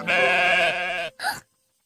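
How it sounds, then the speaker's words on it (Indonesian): A sheep gives one long, loud, wavering bleat up close, then a shorter second bleat, with silence afterward. "Domba."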